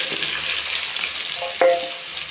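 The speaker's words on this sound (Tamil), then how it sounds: "வெங்காயத்தை போட்டு நல்லா இந்த மாதிரி வதக்கிட்டுங்க" Onions frying in oil in a pan for chicken masala, a steady close sizzle with brief stirring scrapes partway through.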